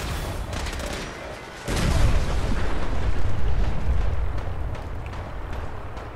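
Fallout 4 firefight: dense, continuous gunfire and explosion booms, loud and close, building after a brief lull into a sustained barrage of rumbling blasts.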